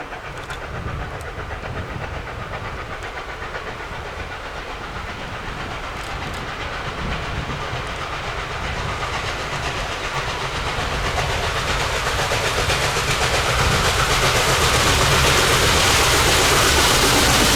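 Norfolk & Western 611, a 4-8-4 steam locomotive, climbs the steep 1.5% eastbound grade to North Mountain summit. A rumbling, hissing train roar with rail clatter builds steadily louder as it approaches, with no voices.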